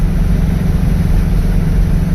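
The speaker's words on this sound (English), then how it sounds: "It's idling great." A Baja engine fitted with Weber IDF 48 carburetors idles steadily and loudly up close, a smooth, even low rumble with no stumbles and no voices.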